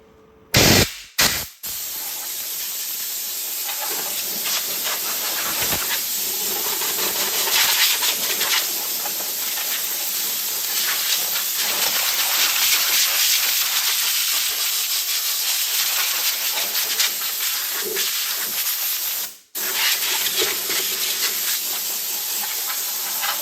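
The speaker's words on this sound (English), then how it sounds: "Just a little compressed air makes a huge difference" Compressed air blasting dust out of an Astro Fighter arcade cocktail table, a loud, close, continuous hiss that runs almost unbroken for over twenty seconds after a few short opening bursts, with one brief pause near the end.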